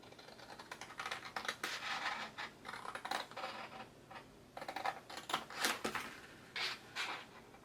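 Scissors cut through gift wrapping paper close by in short rustling, crisp bursts, pausing briefly between strokes.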